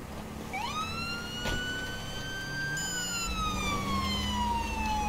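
Police siren wailing in the LSPDFR police game, a rising electronic tone that sweeps up and holds steady, fairly loud and close over low engine rumble, with no talking.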